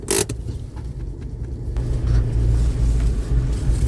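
Car cabin while driving to Aldi and a pet shop, with a steady low road rumble and engine drone throughout and a brief rattle near the start; no talking.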